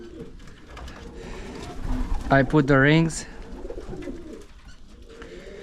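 Pigeons cooing in an aviary loft with baby birds, a loud close bout of throaty coos in the middle, with someone talking and faint rustling around it.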